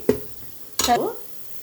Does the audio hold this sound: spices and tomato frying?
yes